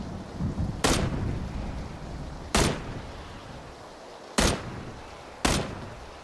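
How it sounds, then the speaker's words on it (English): Four single gunshots in PUBG, each a sharp loud crack spaced a second or two apart with a short decaying tail, over quiet background. "How many bloody shots does it take to kill someone with this gun?"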